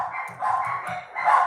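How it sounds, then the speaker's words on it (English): Dogs barking in a short run of repeated yaps close by, at a household property. "Ignore the dogs."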